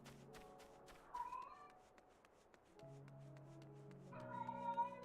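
A cat meows several times indoors, drawn-out tonal cries at a low, distant level with short pauses between them and a faint background hum.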